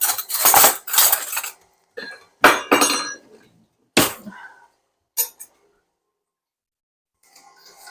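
Metal spoon and utensils clatter against dishes in a home kitchen during key lime cake prep, a few sharp clinking bursts in quick succession, then scattered lighter clinks trailing off into near silence.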